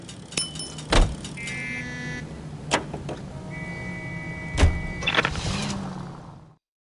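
A car in L.A. Noire on PS5 idles and moves with a steady low engine hum, broken by several sharp door and mechanical clunks and a whirring electric tone, with no talk.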